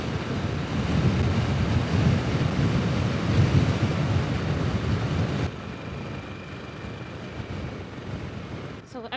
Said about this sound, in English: It is a really windy day today